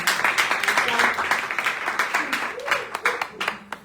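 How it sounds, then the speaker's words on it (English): Audience clapping for a judge at a live poetry slam event, a steady patter of many hands with some voices and cheers mixed in, fading toward the end. "A round of applause for Luyanda."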